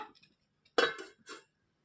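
A plate set as a lid over a pan of chicken roast gives one sharp metallic clink followed by a shorter ringing tap, close and clear against near silence.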